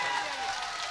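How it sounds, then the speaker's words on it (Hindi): An outdoor crowd at a Bol Bam devotional song performance claps together in a dense, continuous burst lasting about a second, loud and evenly sustained. "आप लोगों ने सब हाथ खड़े करके तालियां बजाएंगे"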